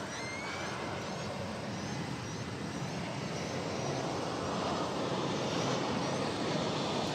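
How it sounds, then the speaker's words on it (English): An incoming Airbus A319 airliner on a flight from Silao, Mexico, approaching DFW Airport, a steady broadband engine roar that builds slightly and holds, with no talk over it. "Another incoming flight, this one from Silao in Mexico."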